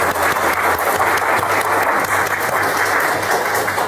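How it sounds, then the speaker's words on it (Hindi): A large crowd at a stage event bursts into loud, continuous applause to welcome a guest, with the dense clapping close and steady throughout and a low rumble beneath it. "एक जोरदार ताली"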